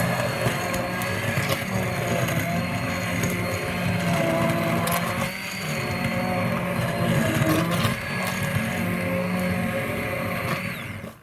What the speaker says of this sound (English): What I'll do is I will get my stick blender